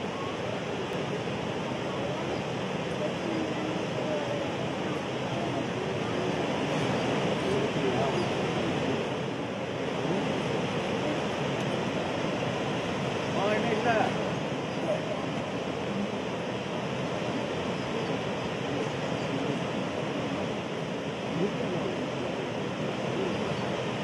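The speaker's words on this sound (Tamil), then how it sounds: "தற்போது சம்பா சாகுபடிக்காக மேட்டூர் அணையில் இருந்து தண்ணீர் திறந்துவிடப்படுகிறது." Water released from Mettur Dam in Salem roars and rushes in a steady, dense wash that holds at a constant loud level throughout.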